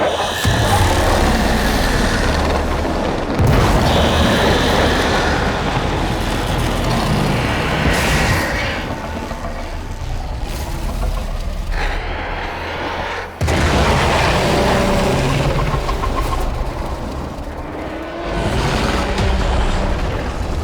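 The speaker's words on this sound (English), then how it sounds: "There should be useful detritus falling from the explosion." Explosions in the video game Warframe: heavy, rumbling booms and blasts layered over a dense, roaring mechanical background that stays loud throughout, with one sudden cut and surge partway through.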